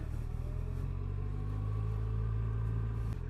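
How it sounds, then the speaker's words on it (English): A motorcycle engine rumbles steadily and close as gas is given and the clutch is let out to pull away, with a low sustained drone that rises slightly in pitch before a brief dip at the end. "Now, give it a bit of gas, disengage the clutch, the bike goes again."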